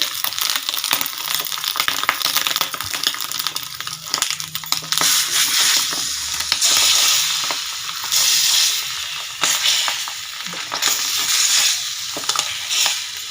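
An egg frying in a pan, with a loud continuous sizzle and crackle that surges and fades in waves, close up and with no talking.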